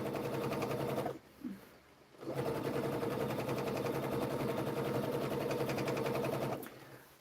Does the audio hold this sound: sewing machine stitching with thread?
yes